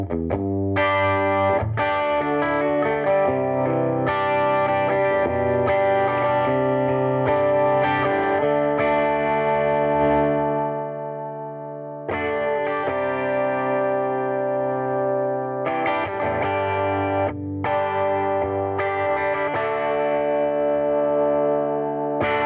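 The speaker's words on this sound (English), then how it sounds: "listen for the reverb. It's there though. It's not super clean. It's clean, but it's definitely got some aggression to it." Electric guitar played through a Fender Mustang GT 100 amp on a mostly clean tone with reverb and a touch of distortion: sustained chords and ringing notes, loud and continuous, with a brief pause midway.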